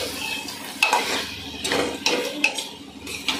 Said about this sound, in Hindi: तो सबको भून लेंगे अच्छी तरह से।